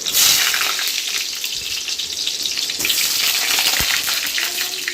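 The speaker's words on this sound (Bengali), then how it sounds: "আমি একে একে বেগুনগুলোকে ভেজে নেব।" Eggplant slices sizzle and fry steadily in hot mustard oil in a wok, a continuous close, loud crackling hiss with a brief soft clack near the end.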